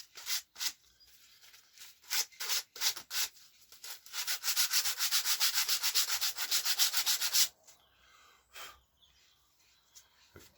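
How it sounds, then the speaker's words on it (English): Fine-grit sandpaper brushed over a piece of tabletop scatter terrain for wargames, making soft rhythmic scratchy rubbing strokes up close that quicken into a steady run of back-and-forth sanding before stopping, with occasional light scrapes afterward. "We get a fine grit sandpaper, and all you're doing, normally I do this down here, but all you do is just giving it a brush over."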